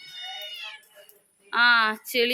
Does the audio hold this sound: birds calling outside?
no